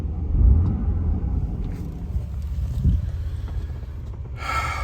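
A car engine revs up as the throttle is snapped, a deep low rumble swelling and falling alone with no talk, while fuel pressure on a gauge climbs during an intermittent drivability fault.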